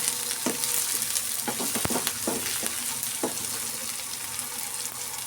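Masala frying in oil in a pan for okra sambar, a steady sizzle broken by several sharp spoon scrapes and taps against the pan, close and without talk.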